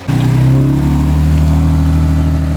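A BMW M3 engine revs hard close by, a loud, steady throaty drone with a fast buzzing rasp as it accelerates, then cuts off abruptly.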